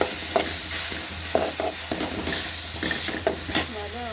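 Ginger garlic paste sautés in a hot pan while a cauliflower dish is cooked in the style of mutton chops. A steady sizzle runs throughout, with occasional scrapes of the stirring spoon, near and moderately loud.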